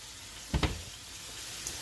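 Food frying in a pan while Thanksgiving stuffing is prepared, a steady close sizzle hissing throughout, broken by a couple of brief clatters partway in, with no talking.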